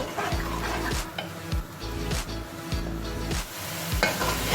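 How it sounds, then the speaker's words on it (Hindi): Onions frying in a pan as they are stirred: a loud, steady sizzle with repeated scraping strokes of the spoon roughly every half second, heard close up and alone. "अब हमें बहुत अच्छे से प्याज को भूनना है, क्योंकि हमारी प्याज कच्ची है"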